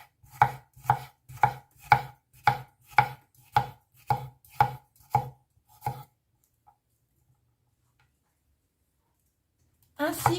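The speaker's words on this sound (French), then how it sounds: "Coupez en lamelles le poivron." A knife slices a bell pepper into strips on a cutting board, with about eleven crisp, evenly spaced chops close up, then silence before one more sharp sound at the end.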